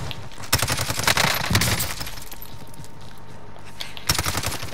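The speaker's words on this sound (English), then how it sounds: "Who's firing? Me!" Bursts of automatic gunfire in the Call of Duty: Modern Warfare video game, with loud rapid volleys early, a quieter stretch, then another burst near the end.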